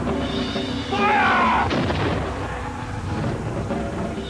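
Artillery cannon fire in a battle reenactment for a documentary: a loud, broad blast lands at about one second and sustains with rumbling reverberation, a second sharp report follows, and the echoing roar then fades. Faint shouting may sit beneath the boom.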